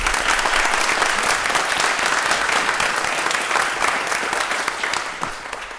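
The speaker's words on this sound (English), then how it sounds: "can we give the PPS staff a round of applause?" An audience at a Pittsburgh city council meeting applauds the staff, steady dense clapping from many hands filling the room and fading only slightly by the end.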